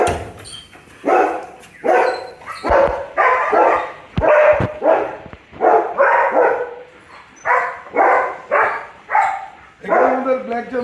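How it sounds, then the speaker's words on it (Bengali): Several dogs bark repeatedly at a dog farm in Bangladesh, short harmonic barks coming in a steady run of bursts with little pause between them, mixed with a person talking. "আর এখানে কুকুরগুলো মূলত থাকে"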